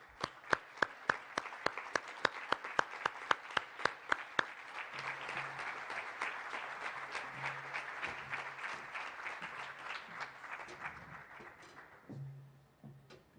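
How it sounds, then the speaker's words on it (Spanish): An audience applauds, sharp individual claps at first that swell into dense, sustained clapping before tapering off. "pedirles un nuevo aplauso para Nelson y para los familiares"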